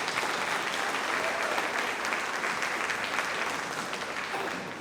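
Audience applause for a sixth grade band at a school concert, a dense, steady wash of clapping from a crowd, moderately loud and sustained throughout without voices.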